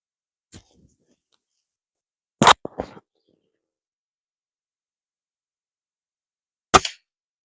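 A GAMO Wildcat Whisper air rifle fires Crosman Destroyer pellets: two sharp, loud shots a few seconds apart, each with a short mechanical clatter after it, and a faint click near the start, in an otherwise silent setting.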